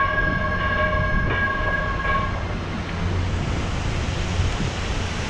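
Train rolling past nearby, a loud steady low rumble and rattle of rail cars with a few sustained tonal squeals early on, continuous throughout with no talking.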